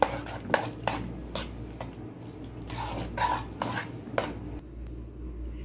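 A spoon knocks and scrapes against a pan while mango is mixed into vermicelli kheer, giving a series of sharp clinks and taps over a quiet background hum.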